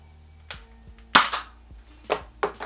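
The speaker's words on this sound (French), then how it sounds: "Non, je vais tirer à côté quand même. Je tire en haut." A spring-loaded toy gun from a Kaiju No. 8 merchandise unboxing, firing several sharp snapping shots indoors. One louder crack is followed by a few quicker pops, each close and dry.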